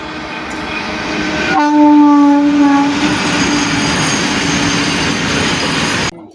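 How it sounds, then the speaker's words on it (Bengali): A goods train arrives at a station on a line from Malda, a loud nearby rumble with a long horn blast early on, then steady rolling wagons until it cuts off. "আর এই দেখো গাইস ট্রেন আসছে মালদা থেকে"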